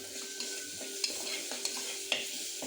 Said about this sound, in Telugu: ఇలా బాగా వేయించుకోండి.